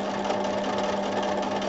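A sewing machine runs steadily through a zigzag stitch just under 2 width on water soluble embroidery, a close, even, continuous whir with a fast mechanical rattle and no voices.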